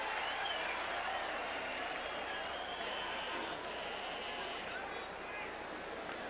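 A large crowd of about 40,000 at a Giants baseball game in San Francisco against the Cubs, producing a steady, distant roar and murmur throughout, with faint applause-like texture and no clear voices.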